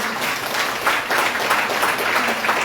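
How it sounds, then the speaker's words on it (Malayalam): Audience applause at a political gathering in Kasaragod, a crowd clapping steadily, with dense overlapping claps at moderate volume. "അവർക്കാണ് ഏറ്റവും ആദ്യത്തെ കൈയടി"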